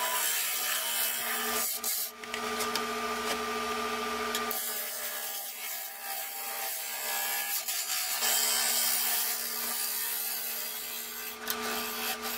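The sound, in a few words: sanding a turned wood bowl on the lathe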